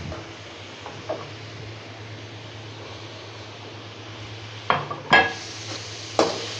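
Capsicum stir-fries in a pan for Chinese egg fried rice, a soft continuous sizzle under a low hum, with a few sharp clanks of a spatula against the pan near the end.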